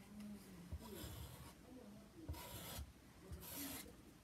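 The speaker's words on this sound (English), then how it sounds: "Almost done scraping this." Chalk paste being scraped off a surface, coming in three rough rasping strokes with pauses between, close and fairly quiet.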